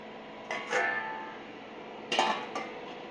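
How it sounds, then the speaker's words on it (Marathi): A metal lid is set onto a pot of carrot halwa. Two short, close clanks ring out, each with a brief metallic ring, separated by a quiet pause. "आता याच्यावर झाकण ठेवायचं थोड्या वेळ."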